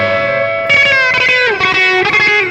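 An electric guitar played through a clean Deluxe Reverb amp model with a lead boost adding gain on an HX Stomp XL, sounding one held note followed by a short bending, picked lead phrase, loud and sustained.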